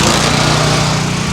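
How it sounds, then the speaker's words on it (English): Small engine driving the pump on a portable toilet waste tank, a loud, steady, buzzing drone running close by with no break. "we're gonna go ahead and start the engine and start the pump"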